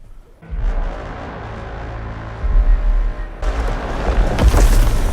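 Cannon fire booms at a giant troll in a film soundtrack, a deep sustained rumble that swells louder with sharper blasts toward the end.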